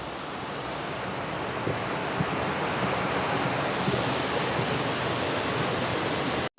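Heavy monsoon rain falls steadily outside, a dense, even wash of noise with occasional louder drops and no talk.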